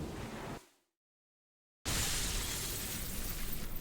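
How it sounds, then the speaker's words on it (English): Mirror shattering in the video game Limbus Company, a loud burst of breaking glass that cuts to silence, then a sustained bright crash and noisy wash of debris. "Now I heard the mirror shattering."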